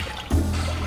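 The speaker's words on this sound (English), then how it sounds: "First thing you want to do is add 2 cups of water." Water poured into a pot to start a quick pho broth, a steady close stream that starts abruptly and keeps running evenly, alone with no talk.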